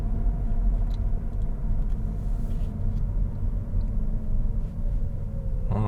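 Toyota Auris Touring Sports hybrid slowing gently for a red light, heard as a steady low cabin rumble of road and tyre noise with no sharp changes, fairly loud and continuous throughout.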